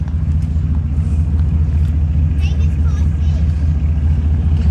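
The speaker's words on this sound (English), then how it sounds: "This engine runs much smoother than the other one." The engine of a 1984 Mercedes 500SEC Euro runs smoothly at a steady idle, a close, constant low rumble without any change in pitch.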